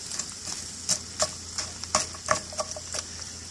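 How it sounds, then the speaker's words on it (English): A spoon stirs frozen succotash with okra in a skillet, making a string of irregular clicks and scrapes over a low, continuous sizzle. "it's frozen still, so I'm just stirring it up"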